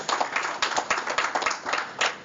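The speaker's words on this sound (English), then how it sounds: "Give a round of applause for everybody that you saw earlier." Comedy show audience applauding, a short burst of brisk clapping from a crowd, close and fairly loud with a steady dense rhythm.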